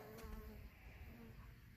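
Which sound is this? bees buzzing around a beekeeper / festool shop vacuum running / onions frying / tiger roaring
bees buzzing around a beekeeper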